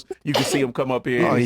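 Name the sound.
sneeze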